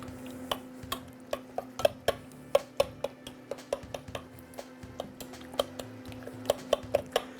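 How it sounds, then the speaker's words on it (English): A knife cuts whole canned tomatoes in a pot of chili, giving a steady run of light, sharp metallic taps and clicks at an uneven pace against a faint low hum, with no one talking. "I'm just going to take a knife. I'm just going to cut them."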